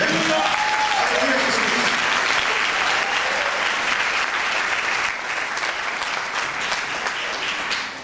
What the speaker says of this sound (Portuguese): Quem pode aplaudir a Jesus por tudo que Ele tem feito